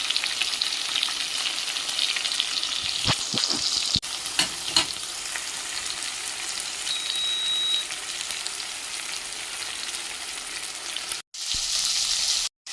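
Onions with cumin and pepper sauté in a pan for a country-chicken fry, giving a continuous hiss and sizzle. A few sharp scrapes and clicks of stirring come early, and the sound drops out briefly near the end.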